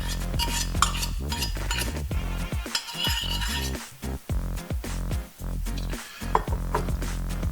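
A utensil scrapes and clacks against a bowl, stirring flour, salt and plain yogurt into a dough, a loud, close, continuous stirring with brief pauses.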